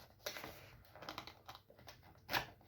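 Quick, quiet keystrokes tap out an uneven rhythm on a Ziyou Lang T60, a compact 60% RGB mechanical keyboard with red switches. One slightly louder clack comes near the end.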